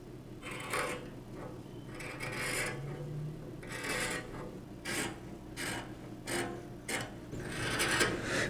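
Repeated rasping, rubbing strokes come from cutting and handling fabric belt loops for a pair of summer shorts, in uneven bursts close by with no talk.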